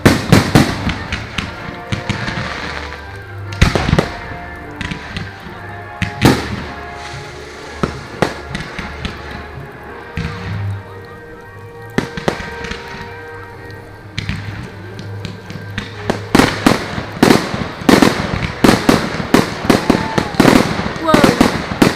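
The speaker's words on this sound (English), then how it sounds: "Oh yes, a rocket." Firework rockets launch and burst at a bonfire night gathering, with repeated sharp bangs and crackles that grow denser toward the end, while people talk and exclaim over them.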